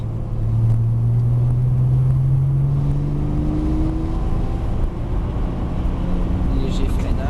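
A car accelerates on a racetrack during a driving course, its engine rising steadily in pitch under cabin rumble, with an instructor talking over it.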